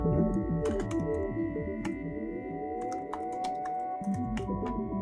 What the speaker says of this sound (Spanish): Y con esta, de hecho, ya puedes teclear.